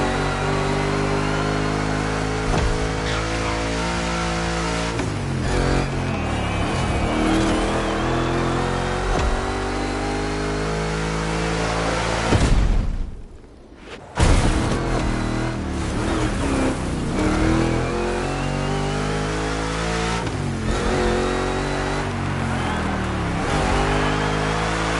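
A giant Mustang GT engine revs steadily through a two-lap race in The Crew Motorfest, loud and sustained with rising and falling pitch, briefly cutting out near the middle before roaring back.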